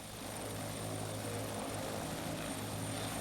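Helicopter flying over a lighthouse area, a steady loud rotor and engine drone with constant broadband noise and a droning low hum throughout.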